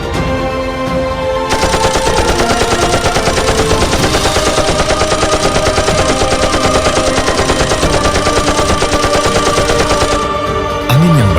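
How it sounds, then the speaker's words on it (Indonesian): Sustained bursts of rapid machine gun fire in a theatrical battle scene, loud and dense, rattling continuously for several seconds with a slight echo. "tentara Belanda yang berada di Savoy Homan segera memberondongkan peluru."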